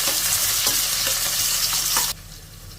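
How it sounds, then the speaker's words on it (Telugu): Sliced onions and green chillies frying in a pan, a loud steady sizzle with a few utensil clicks, close by, that drops away sharply near the end. "ఇప్పుడు వీటిని ఒక 2 నిమిషాలు ఫ్రై చేసేసుకోవాలి."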